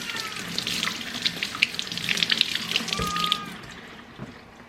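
Three garden-fresh cucumbers are washed under a running tap in a sink: a steady rush of water with small splashes, close by, tapering off near the end.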